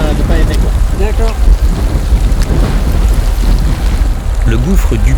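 Heavy rain pounding down inside the crater of La Soufrière volcano, loud and continuous with low rumbling gusts, while people talk in French over the downpour.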